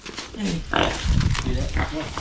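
Crossbreed pigs from Ilocos grunting and squealing at close range, mixed in with people talking over them.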